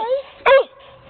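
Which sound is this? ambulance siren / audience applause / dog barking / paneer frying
dog barking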